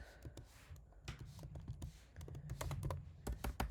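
Quick bursts of typing on a computer keyboard, crisp close key taps in uneven runs with short pauses, no talk.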